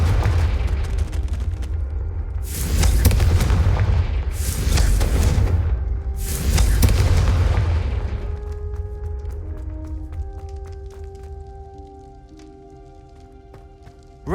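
Repeated spell explosions from the Confringo curse in the Hogwarts Legacy video game, three loud bursting booms in quick succession over a rumbling game soundscape, followed by quieter tonal music.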